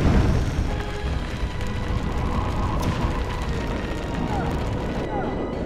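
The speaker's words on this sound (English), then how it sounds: "we're going to use our mage, cast Blizzard, and hopefully put this fire out" A Blizzard spell cast by a mage to put out a fire in Dragon Age: Origins: a loud, steady roaring rush of icy wind with rumbling undertones that holds unbroken for several seconds.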